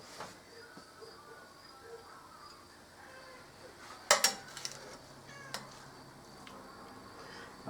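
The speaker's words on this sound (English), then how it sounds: "My kitty cat's somewhere meowing at me." A house cat somewhere in a home kitchen gives a few faint, short meows amid quiet background clatter, the calls sounding distant and separated by pauses.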